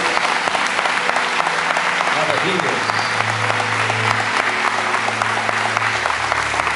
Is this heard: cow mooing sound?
no